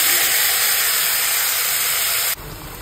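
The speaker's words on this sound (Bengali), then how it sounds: "এই যে কেটে রাখা টমেটো, এইটা এবার এখানে দিয়ে দেবো।" Chopped tomato hits hot oil tempered with mustard seeds and dried chilli, giving a loud, steady steaming hiss that drops abruptly near the end.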